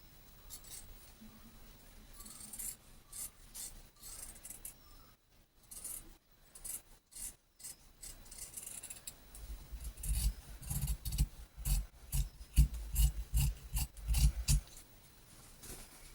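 Scissors snip through fabric along an armhole and shoulder edge in a quick run of close, crisp cuts, growing louder and denser toward the end, with no talking.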